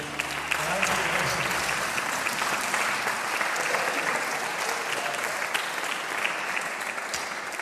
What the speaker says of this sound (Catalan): Fem un aplaudiment al Senyor Jesús, que ha vingut tan ràpid.